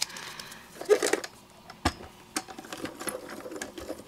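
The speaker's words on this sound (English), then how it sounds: "So this is a good set for a smaller die cutting machine too." A small manual die cutting machine is cranked as a die passes through it, giving off soft, close mechanical clicks, knocks and a faint grinding rattle at a low level.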